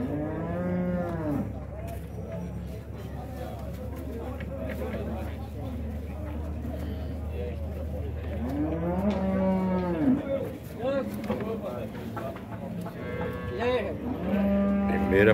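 Cattle mooing at a livestock fair in Dois Riachos, Alagoas, with several long, loud bellows from nearby cattle rising over a murmuring crowd and an auctioneer-style voice talking throughout.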